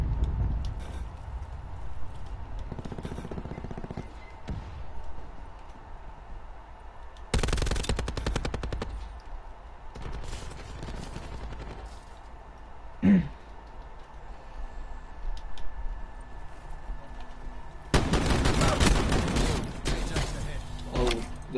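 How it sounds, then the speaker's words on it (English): Video-game gunfire, including a shotgun, comes in loud dense bursts of rapid shots separated by quieter stretches, with a sharp single blast midway and a player talking at times. "that's a dude with a shotgun"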